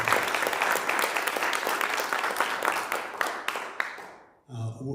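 A church audience at a county commission candidate forum breaks into sustained applause, a dense wash of many hands clapping that fades out abruptly, followed by a brief moment of voices.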